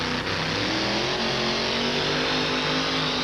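A big block Chevrolet fuel-injected truck-pulling engine roars at a truck pull, loud and steady at high revs throughout, with dense crowd-level noise and no talking.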